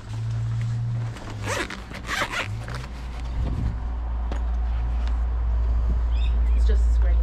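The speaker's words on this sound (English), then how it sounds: "All safe in its little zipper case." A small zipper on a phone protector case is pulled in several quick rasping strokes, close to the mic, over a low steady rumble with some handling noise.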